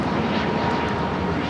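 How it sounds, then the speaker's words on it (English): A Cayman Airways Boeing 737 MAX 8 takes off at Los Angeles airport, heard as a steady, loud broadband engine roar that holds without a break for the whole moment, with no voices on top of it. "This is Cayman Airways Flight 481 taking off to Georgetown on the MAX 8"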